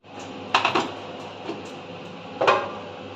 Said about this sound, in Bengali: ঢাকনা দিয়ে দেবো